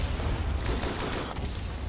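Dense battlefield din from the video game Verdun, with mortar fire and gunfire: a continuous loud roar of overlapping shots and blasts with no clear gaps and no speech.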